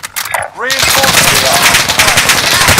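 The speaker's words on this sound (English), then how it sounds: "They're shooting at me!" Rapid automatic gunfire rattles loudly and continuously in Call of Duty Warzone on the Caldera map, preceded by a brief shouted voice and whooshing effects.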